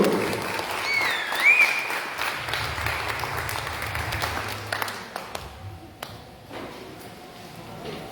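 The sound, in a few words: congregation applauding in church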